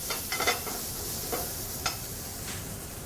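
Spice-rubbed pork caramelizing in a pan gives a steady low sizzle with occasional soft stirring scrapes and clicks, heard close and alone without speech.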